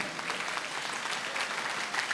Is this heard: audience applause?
yes